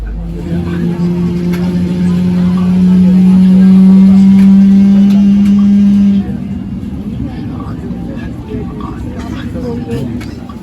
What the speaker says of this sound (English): the first of our two G90-115Bs started spooling up, so I'll let you have a listen